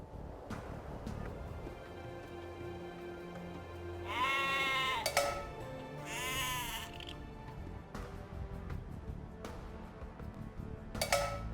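Sheep bleat in Age of Empires II: Definitive Edition, two drawn-out wavering bleats in the middle over a steady game background with occasional clinks.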